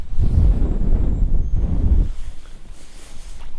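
Strong wind buffeting the microphone on Lake Sakakawea during fall walleye fishing with snow flurries, loud low gusts in two surges that then ease into a softer steady blow.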